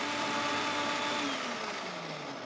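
A steady, loud whirring motor hum of a blender beating eggs, running continuously, its pitch drifting slightly lower toward the end.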